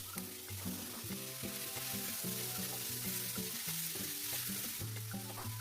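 Chicken pieces stir-fried in a spice paste: a continuous close sizzle with scraping and stirring sounds mixed with a loud melodic music track, no voices.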